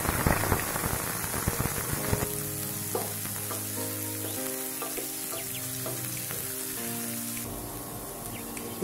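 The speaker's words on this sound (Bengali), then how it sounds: "এবার আমরা এতে পেঁয়াজ কুচিগুলো দিয়ে দেব।" Chopped onions hit hot oil already flavoured with whole garam masala, chilli and bay leaf, starting with a loud crackling burst that settles into a steady close sizzle with a few stirring knocks, no talking.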